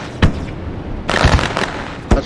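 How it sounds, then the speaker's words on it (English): Fireworks set off at the start of a dirt race, with a few sharp, loud cracks spaced irregularly and a burst of crackling in between over outdoor background noise. "Fireworks going off."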